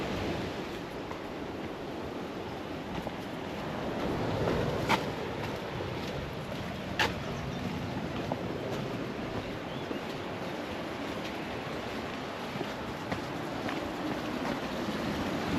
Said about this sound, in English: look at those rollers coming in